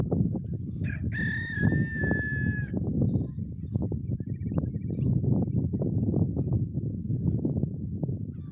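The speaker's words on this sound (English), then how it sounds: "It's nice to hear all the wild birds." A rooster crows loudly nearby over a steady bed of rushing wind or outdoor noise, with faint bird calls scattered through the rest.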